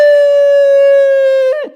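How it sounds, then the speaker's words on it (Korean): A steady, loud siren wail holds one high tone for over a second, then drops off sharply and fades. "사이렌 소리. 불났네."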